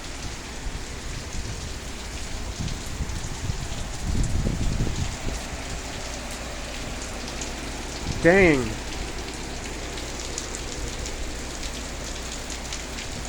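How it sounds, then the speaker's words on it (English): Very hard rain pours down steadily in a broad hiss, with trees blowing in a storm, a burst of heavier noise midway and a brief spoken exclamation. "Again, I don't think it's ever rained this hard."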